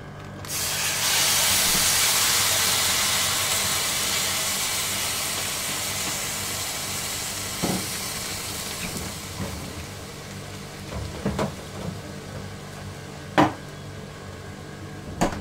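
Milk poured into roasted vermicelli in a hot pan sets off a loud rush of steamy hissing that slowly fades into a quieter simmering sizzle, broken late by a few sharp clinks and knocks.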